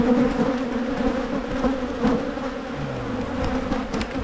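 Honeybees swarming around an opened hive during a split, a dense, continuous droning buzz close by, with a few individual bees passing nearer and no talking.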